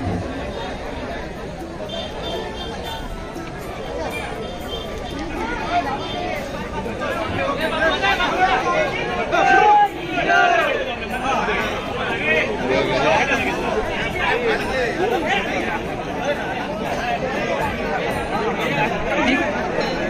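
Dense, steady chatter of a large crowd gathered for the second day of Holi colour play in Harkul Khurd, a Konkan village, a continuous babble of many overlapping voices that swells slightly midway.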